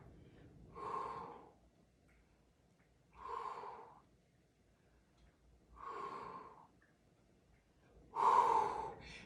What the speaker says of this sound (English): Inhale and then exhale.